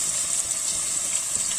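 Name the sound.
water being poured into the pan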